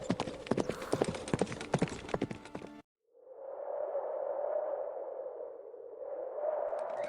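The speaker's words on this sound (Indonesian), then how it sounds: "terdengar suara pasukan kuda dari kejauhan" A troop of forty horsemen approaches in an animated 3D scene. Rapid hoof clip-clops beat in a dense rhythm, then after a brief silence give way to a steady rumbling wash of distant riders.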